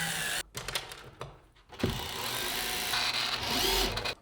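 Power driver sinking drywall screws into a speaker backbox, with a whirring, grinding drive that runs in short stops and starts and then continues steadily up close.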